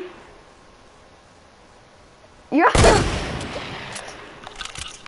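Sudden burst of video-game gunfire, a loud sharp crack followed by a rattling volley and trailing noise, breaking a quiet stretch halfway through.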